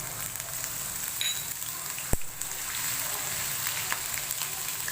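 Whole spices and ginger-garlic paste sizzle in hot oil for shahi paneer, a steady crackling hiss close by, with a sharp clink partway through.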